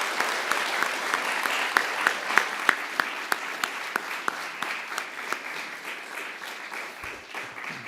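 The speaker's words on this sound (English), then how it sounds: "Let's please give them a round of applause." An audience at an honors series event breaks into applause, dense rapid clapping with a few sharper hand claps standing out, steady at first and then gradually thinning and fading toward the end.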